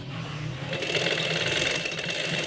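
A sewing machine stitches a strip onto a trouser hem, a fast steady mechanical whir and clatter running continuously, close and fairly loud.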